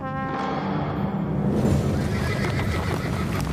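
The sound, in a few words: horses neighing and galloping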